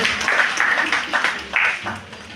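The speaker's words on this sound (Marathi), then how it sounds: "टाळ्या वाजवण्यासाठी कंजूसी करू नका" Audience applause at a college festival: a brief burst of clapping that swells and fades in uneven waves over a few seconds, moderately loud in a hall.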